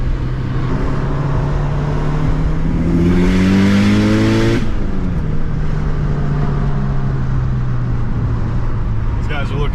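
A red sports car's engine revs hard on a road, the pitch climbing steadily over several seconds, then dropping away and settling into a loud, steady drone that stays present throughout.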